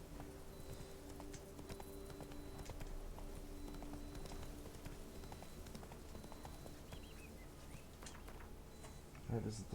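Roach, the horse in the Witcher 3 video game, trots along with steady clip-clopping hooves over a constant game soundscape and faint ambient ticks, the footfalls sounding moderately close and rhythmic throughout.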